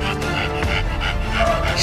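A dog pants in quick, rhythmic breaths, close and loud, while a person talks over it throughout.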